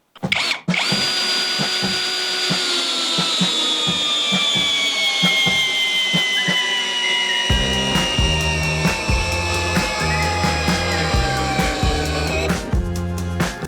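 A GRAND DA-20/13UBL Pro cordless drill-driver in drilling mode whines loud and close as it spins up and holds speed, then bites into the work with a rough, rattling load for the last stretch. No speech.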